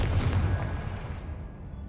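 A Confringo blasting spell exploding in a video game, a deep rumbling boom that fades out over a couple of seconds, no voices.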